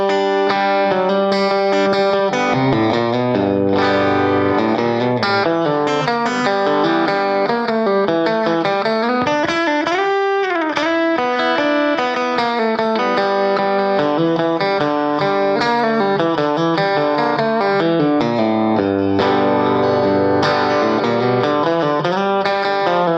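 An electric guitar plays the intro of a country piece at a slow tempo, clean-toned with effects, notes ringing and sliding over a steady rhythm.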